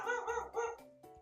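A person vocally imitating a dog, giving a few short barking yips in quick succession followed by a softer whine, close and clear with no other sounds.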